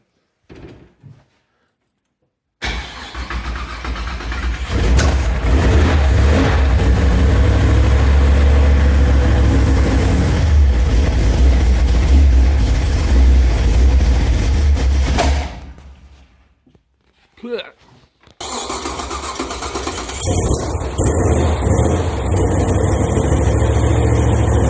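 A 406 small-block V8 in an S-10 drag truck with a 4L80E transmission fires up for the first time and runs loud and rough, cuts out briefly, then restarts and idles on, with no talk.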